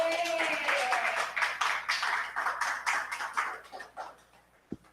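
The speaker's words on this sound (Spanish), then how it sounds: "Vamos a darle un aplauso al Señor" A church congregation claps together in a dense, rhythmic burst that fades out over several seconds, ending in a single sharp knock.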